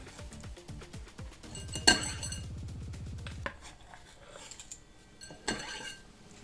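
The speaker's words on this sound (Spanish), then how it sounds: "Yo le he puesto un cuarto de cebolla y por supuesto hay que picarla muy pequeño." A knife finely chopping a quarter of an onion for a simple salad, with a run of quick, close taps near the start followed by softer kitchen clatter and a few scattered knocks.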